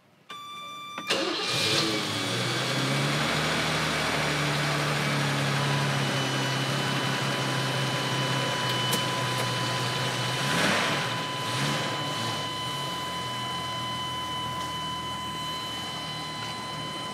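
Old BMW Bavaria engine cranking and catching, then settling into a steady, fairly loud idle close by, with a brief blip of revs partway through.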